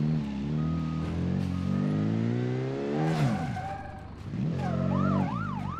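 A car driven hard in BeamNG Drive to ram a truck, its engine revving up through rising gear-like sweeps, with a siren-like wailing tone toward the end, loud and steady without talk.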